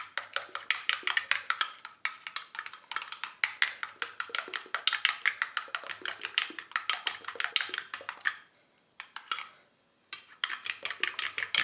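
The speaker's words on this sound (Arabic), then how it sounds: "خلطوها مزيان حتى يندمج لنا هاد الزيت" Rapid metal-on-bowl scraping and clinking as natural hair dye mixed with oil is stirred briskly, a steady dense rhythm of close strokes that pauses briefly before resuming.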